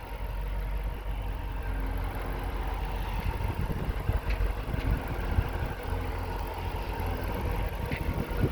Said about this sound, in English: Such a beautiful, impressive engine.